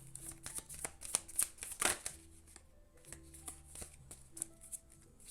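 Cards riffled and flicked from a deck during a pick-a-card reading, a quick run of sharp snapping shuffles followed by softer scattered card sounds, close and with no talk.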